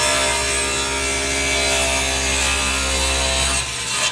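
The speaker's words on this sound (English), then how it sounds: "put the rough edge against the fence and run this guy through" A table saw rips a rough wood board along the fence, cutting loudly and steadily for about four seconds before the blade eases out of the wood at the end; no voices.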